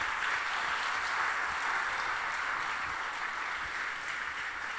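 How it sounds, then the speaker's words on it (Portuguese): A church congregation bursts into steady, dense applause during a sermon, a continuous wash of clapping that fills the room without pause. "Aplauda o Senhor pela vida daquele irmão ali."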